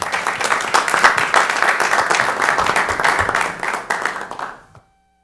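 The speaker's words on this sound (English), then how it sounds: "Let's give a round of applause." Audience applause at a city council meeting, a fairly loud, dense round of many hands clapping that holds steady for several seconds, then fades quickly and stops near the end.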